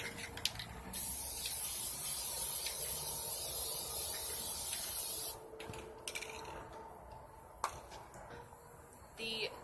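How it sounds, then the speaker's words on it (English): A steady hissing spray from an aerosol paint can lasting several seconds, then stopping, followed by quieter rattles and short bursts. "you are going to want to shake the paint before you spray so it all comes out consistently"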